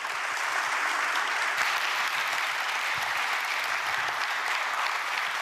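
Applause at a large government public briefing ceremony, a broad steady roar of many hands clapping, heard from a distance and sustained evenly without speech.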